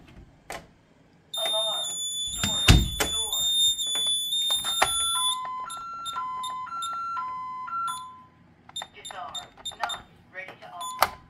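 Honeywell Vista 20P alarm system keypad chiming during a storage door test, with repeated bright electronic beep tones in stepped patterns alongside a handling thump, and people talking intermittently around the tones.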